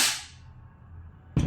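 A VFC BCM MCMR 14.5 airsoft gas blowback rifle fires, giving a sharp close crack with a quick decaying tail, followed by another abrupt snap of a shot at the end.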